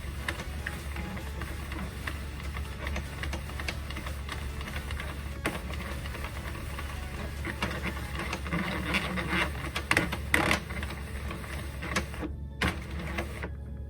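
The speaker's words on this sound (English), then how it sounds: "So you can start to speed up that hand crank." A Sentro 48 hand-cranked knitting machine running steadily while making a hat, giving a continuous, even mechanical clatter and ticking with a low hum beneath, picking up slightly toward the end.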